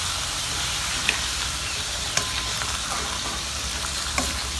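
Vegetables for a Filipino home-cooked lunch frying in a pan: a dense, continuous sizzle with a few faint clicks of a utensil, close and steady, without speech.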